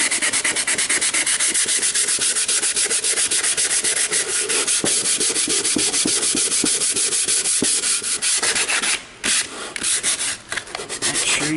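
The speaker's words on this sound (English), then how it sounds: "And I'm going to sand the back." Sandpaper rubs back and forth along the grain on the back of a wooden bird house, giving steady, close, loud scratchy strokes that continue throughout, with a few short pauses near the end.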